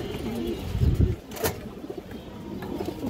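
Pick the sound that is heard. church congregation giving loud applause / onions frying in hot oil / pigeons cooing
pigeons cooing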